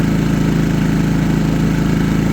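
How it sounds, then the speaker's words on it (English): A Firman WH03242 propane generator at its first startup runs its engine at low RPM under light load, a loud steady droning hum with an even throb, close up and without talk. "So it's running the engine low RPM, so you're not going to burn as much gas with a light load."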